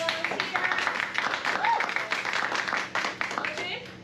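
An improv comedy audience claps for a volunteer brought up on stage, a steady patter of hand claps with a voice speaking over it.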